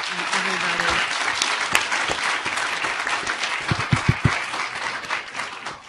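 Moot court competition audience applauding the finalists: steady, full crowd clapping filling the room, with a few voices murmuring underneath and some sharper claps standing out near the end.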